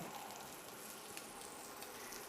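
A 45-day dry-aged bison ribeye, about three-quarters of an inch to an inch thick, sizzling in a pan, with a steady, soft, even hiss throughout.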